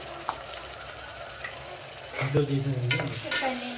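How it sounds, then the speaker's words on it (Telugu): Ginger garlic paste frying in a pan for Telangana-style gongura mutton: a quiet sizzle, then louder stirring scrapes and ringing spoon-on-pan clinks in the second half, close and unhurried. "ఈ అల్లం వెల్లుల్లి పేస్ట్ కూడా కొంచెం వేగనివ్వాలి మనం"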